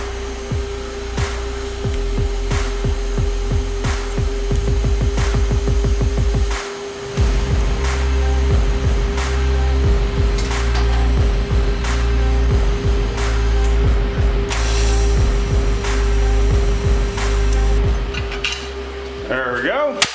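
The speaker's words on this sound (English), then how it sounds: "Now I just need to tack weld it in." Tack welding a part on a Chevy Cruze during an AWD conversion: a loud steady electrical hum with repeated sharp crackling bursts and clicks, spread over twenty seconds.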